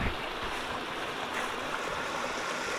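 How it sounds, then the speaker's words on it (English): A creek cascading down a waterfall, a steady broadband rush of falling water heard close and continuous, with no talking. "Pretty nice waterfall."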